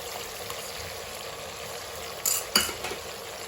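Onion and masala frying in oil in a pan for Old Delhi style mutton pasanda, a steady low sizzle with a few brief scraping stirs near the end, no voices.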